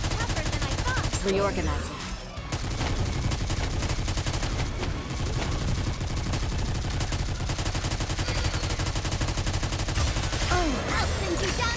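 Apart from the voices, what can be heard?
gunfire in the video game Goddess of Victory: Nikke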